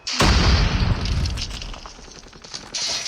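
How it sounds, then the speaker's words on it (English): A grenade detonates in a shooter video game, a loud close boom with a crackling burst that rumbles and decays over a few seconds, with a second smaller blast near the end. "Grenade out!"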